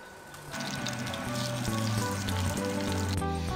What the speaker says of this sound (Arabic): في تاوة ثانية نحمي الزيت علشان نقلي الباذنجان.